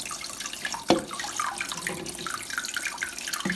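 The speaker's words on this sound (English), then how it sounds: "always have to wait a million years for the cistern to fill up" Toilet cistern refilling with water after a siphon replacement, a continuous close trickle and rush with a faint clunk partway through.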